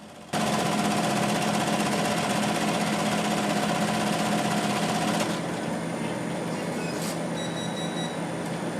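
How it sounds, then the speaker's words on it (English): Vibratory finisher polishing cartridge cases in dried, ground corn cob media with polishing compound, a loud, steady buzzing rumble that runs unbroken and close for the whole stretch. "The finisher works by vibrating a corn byproduct, dried and ground corn cobs, with a polishing compound around the cases, creating a high luster."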